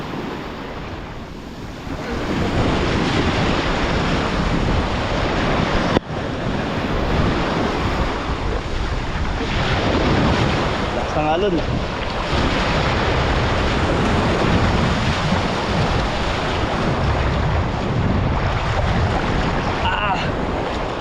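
Steady roar of surf on a beach in Zambales, with broad wash and some wind buffeting on the mic, with faint voices here and there underneath.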